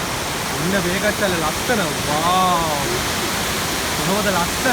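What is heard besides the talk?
waterfall rushing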